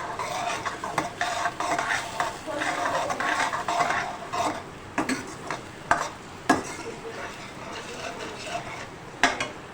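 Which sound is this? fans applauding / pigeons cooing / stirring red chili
stirring red chili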